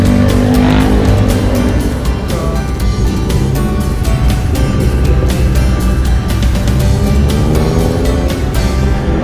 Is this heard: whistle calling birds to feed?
no